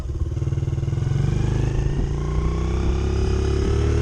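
Honda XR70 fitted with an 88cc BBR kit and a re-jetted carburetor climbing a hill, its single-cylinder engine pulling hard with a rapid, loud, close putter that rises steadily in pitch.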